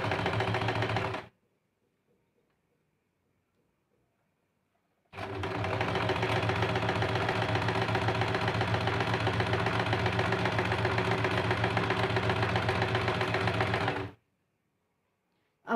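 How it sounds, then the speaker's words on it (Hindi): A sewing machine stitches a princess-cut blouse in two loud, steady mechanical runs. A short burst starts the clip, then a pause of near silence, then a long continuous whir of rapid stitching that stops abruptly. "दूसरी साइड से भी इस प्रकार से सिलाई कर लेते हैं।"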